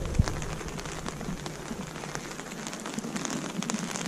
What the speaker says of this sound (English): You can hear the rain now, can't you?